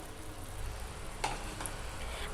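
Chicken frying in oil with ground mint-coriander masala for chicken dum biryani, a low steady sizzle with a couple of brief sharp scrapes or stirs partway through, faint and without talk.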